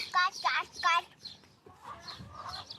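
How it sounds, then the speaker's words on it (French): A hen on a poultry farm gives a few quick, close clucks in short bursts, followed by softer scattered sounds in a quiet barnyard. "Voilà, petite poulette."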